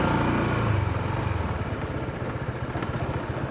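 A parked motorcycle's engine idles close by in the poblacion of Itogon, Benguet, near a river where gold is mined, with a steady low putter of rapid, even pulses and no voices.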